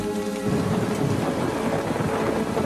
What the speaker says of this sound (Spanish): de pronto se vio atrapado en una espectacular tormenta eléctrica